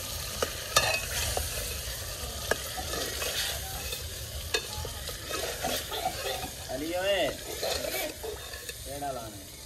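Hot tempering (tadka) for saag sizzles and crackles in a pan, with bursts of frying hiss, clinks and scrapes of stirring, and people talking quietly in the background.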